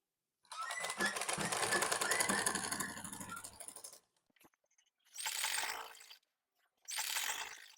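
A sewing machine stitches lining onto a straight salwar in a long mechanical whirring run, then goes quiet before two shorter bursts of stitching.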